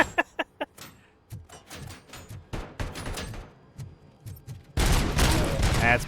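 Enemy gunfire in the RoboCop: Rogue City video game: a quick burst of sharp shots, then scattered impacts and clatter. A loud, dense volley of shooting follows near the end.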